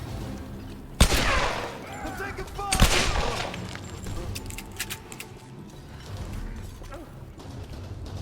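Gunfire in the video game Tomb Raider (2013): two sharp loud shots near the start, then scattered lighter bursts and mechanical clicks continuing under someone talking over the game action.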